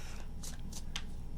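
A deck of tarot cards is shuffled up close in three or four quick papery bursts over a low steady background hum, with no talk.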